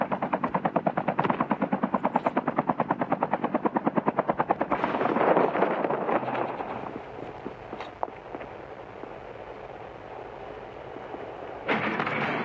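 Airdrop aircraft in Call of Duty Mobile arriving as a steady, rapid helicopter-like rotor thumping, loud and close for about five seconds, then fading into a softer mechanical rumble with scattered game noises.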